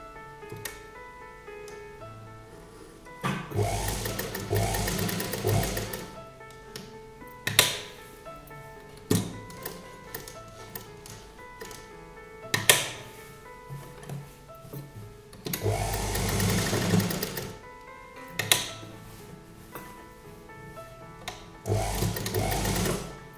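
A sewing machine stitches the overlapping placket strips of an embroidered kurta in several loud, steady whirring runs of a few seconds each, separated by quiet pauses and small handling clicks.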